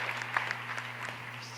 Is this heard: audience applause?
yes